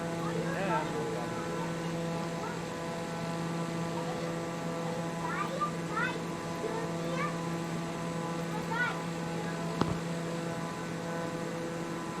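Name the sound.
aircraft engine in a flight simulator video game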